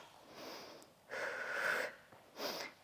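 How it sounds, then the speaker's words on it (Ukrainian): Breathing in and out during an exercise workout, three slow, close breaths, each a breathy rushing swell, with the later exhales louder and more forceful, no talking over them. "Видих, вдих, видих, вдих, видих, вдих."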